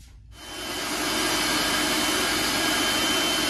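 A food processor starts up to puree cooled, peeled produce, jumping from quiet into a loud, steady whirring roar that holds without a break.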